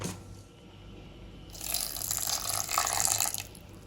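Water pours steadily for a couple of seconds into a grinder for grinding, starting abruptly and splashing nearby, then stops.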